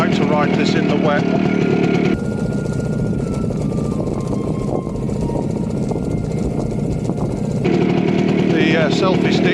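Motorcycle ridden along a dry green lane near Leighton Bromswold, a loud continuous engine drone with buffeting wind rush throughout and a muffled stretch in the middle.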